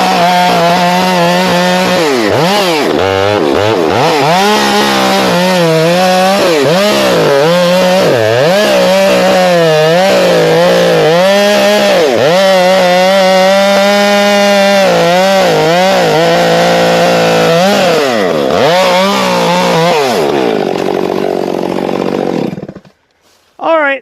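A STIHL MS 462 C chainsaw roars loudly as it cuts through wood, its pitch dipping and rising under load for about twenty seconds before it drops to a lower idle and then cuts out abruptly.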